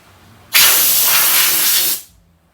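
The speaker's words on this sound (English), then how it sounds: "You just blow on it with air and it moves just fine." Compressed air blasts onto a Koken ratchet for about one and a half seconds, a loud, sharp steady hiss that starts abruptly and then cuts off.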